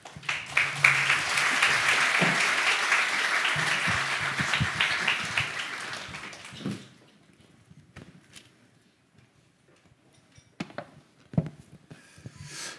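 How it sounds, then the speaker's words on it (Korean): Enthusiastic applause from a church congregation greeting a pastor fills the first several seconds, then fades into a quiet room with occasional small knocks. "우리 힘찬 박수로 맞이하겠습니다"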